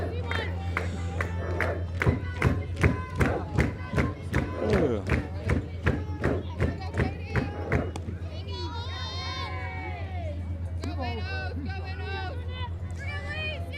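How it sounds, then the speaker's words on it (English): Big afternoon crowd at a college softball game, Ouachita Baptist at Southeastern Oklahoma State, clapping and cheering in rhythmic bursts over steady babble, then shouting and excited children's voices rising above a continuous low hum. "Big crowd here this afternoon making some noise"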